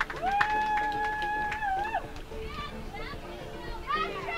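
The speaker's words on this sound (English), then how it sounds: "a nice bit of a healthy heckling taking place out here on behalf of some members of the crowd" Crowd at a women's beach volleyball final at Pacific Beach, with high-pitched shouted heckling and calls from spectators rising over outdoor chatter, fairly close and lively.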